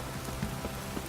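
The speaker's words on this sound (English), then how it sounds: "If it don't stop raining, my arse will rot off." Steady rain patters on a surface in The Witcher 3: Wild Hunt, a continuous hiss of drops with a few louder taps, and no one speaking.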